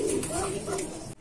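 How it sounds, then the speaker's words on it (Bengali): A male pigeon coos at a pigeon farm, a low rolling call repeated close by over steady background noise and some talk. "দেখেন নরটা ডাকতেছে"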